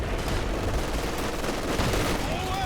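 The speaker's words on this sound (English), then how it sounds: "that machine gun really held our ground" Machine gun fire rattles across a Company of Heroes 2 battlefield in dense, overlapping bursts, loud and continuous, with explosions and other battle noise mixed in throughout.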